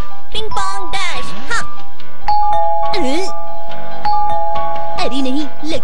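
Repeated ding-dong doorbell rings in a Hindi-dubbed Shinchan cartoon, several loud two-tone chimes in quick succession, mixed with excited cartoon voices and music.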